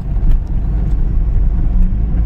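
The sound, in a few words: car driving through city traffic after failing to find parking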